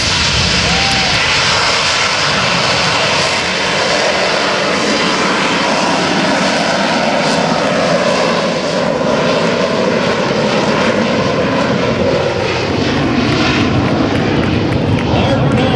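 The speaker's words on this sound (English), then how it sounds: "He's pointed into the wind, so he could potentially do a vertical takeoff." Harrier jump jet at an air show spooling up for a vertical takeoff, a loud continuous roar and whine of the jet engine that fills the scene without letup.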